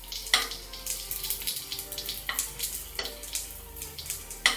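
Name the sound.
potato bhakarwadi pinwheels frying in a pan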